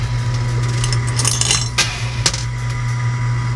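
Coins clinking and sliding in an arcade coin pusher machine, a cluster of metallic chinks over a steady low machine hum, with a couple of sharper clatters standing out.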